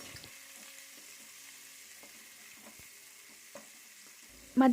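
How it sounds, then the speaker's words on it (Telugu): Chopped tomatoes with salt frying in a pan, a soft steady sizzle with a few light scrapes as they are stirred, ending in a louder clatter. "కొంచెం సాల్ట్ వేసుకొని ఈ టమాటాలను బాగా ఫ్రై చేసుకోవాలి"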